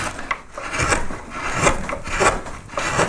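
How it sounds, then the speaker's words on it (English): A wood carving gouge cutting into a yellow flag iris pierced relief, close and fairly loud rasping strokes that rise and fall in a repeated rhythm. "Deeper gouge in here, cut that out."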